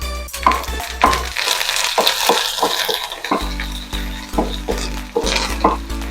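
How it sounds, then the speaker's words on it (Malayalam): Dried red chillies and curry leaves frying in hot oil, a loud close crackling sizzle with repeated stirring scrapes over a low steady hum. "അത് ഇട്ട് കൊടുത്തത് ഒരു 4 സാധാ മുളകും അതും കൂടി ഇട്ട് കൊടുത്തിട്ടൊന്ന് മൂപ്പിച്ചെടുക്കട്ടെ."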